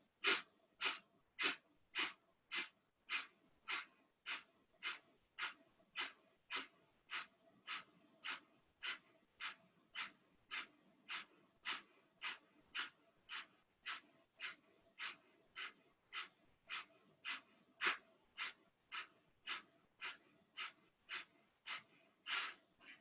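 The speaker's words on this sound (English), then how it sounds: "Extending the arms, Kapala body breathing, 40 pumps." Kapalabhati pumping breath in an all-level Dharma yoga class, heard as a long run of sharp, forceful nasal exhalations at a steady quick rhythm, close and clear, each puff evenly spaced with no talking.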